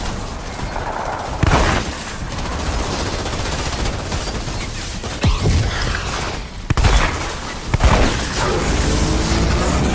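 Pistol fire in the shooter game Outriders, played on PS4 Pro: a dense run of sharp shots and impacts over steady game noise, with several louder bursts spaced through the stretch.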